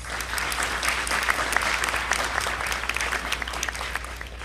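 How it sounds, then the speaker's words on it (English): A graduation audience applauds steadily in a school hall, dense clapping from many hands holding at an even level throughout with no pauses. "Please give them another round of applause"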